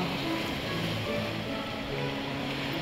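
Sea waves wash steadily against the rocky shore below a quiet seaside Shiva temple near Ratnagiri, a constant, even surf roar with wind-like hiss and no voices.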